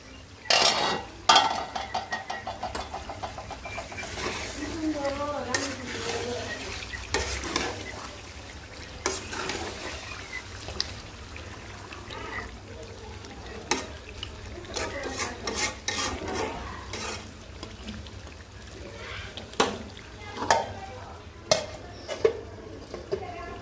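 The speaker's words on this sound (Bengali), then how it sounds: "ঢাকনাটা উঠিয়ে একটু পরপর নেড়ে চেড়ে দিব কষানো পর্যন্ত।" Beef curry cooks in a pot with steady frying sizzle, broken by repeated scraping and clanking of a spoon against the metal as it is stirred, with a few sharper knocks near the end.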